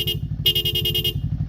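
A Denso compact horn on an FKM Falcon X400 motorcycle gives a short toot, then a longer sustained honk, close and loud over a steadily idling engine.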